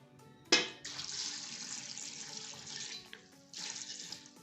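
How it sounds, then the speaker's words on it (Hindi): Water pours from a tap or jug into a pot of chickpea curry, a steady close splashing stream that starts with a sharp burst, runs continuously, pauses briefly and resumes. "अब इसमें मैं पानी डालूंगी।"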